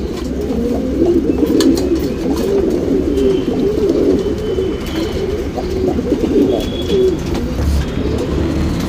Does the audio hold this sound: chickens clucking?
no